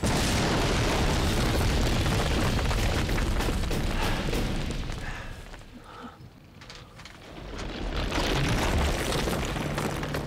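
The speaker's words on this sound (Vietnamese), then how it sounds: "Cho nổ sớm quá, chỉ thiếu một chút nữa." A loud, roaring explosion rumbles in a Vietnamese anti-Japanese war action drama, dipping briefly before surging again into a sustained, broadband blast with no talking.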